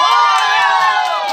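Supporters of a newly elected barangay captain in Gerona, Tarlac shout and cheer together in a loud, sustained crowd roar, with children's voices among them, steady and close throughout.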